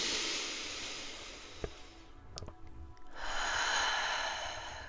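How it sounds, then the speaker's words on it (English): A deep breath drawn in, a long airy inhale that swells and then gives way to a second rushing breath, close to the microphone with no speech. "let's all take a deep breath in together."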